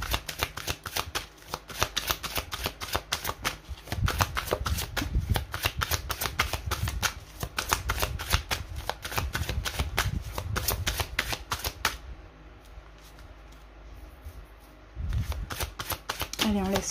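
Tarot cards are shuffled by hand in a long, steady run of dense riffling flutters. The shuffling pauses briefly near the end and then resumes, close and clear, and a voice speaks in the pauses.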